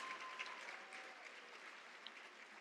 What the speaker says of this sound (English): big round of applause for all the teams that raise funds each and every year for this big walk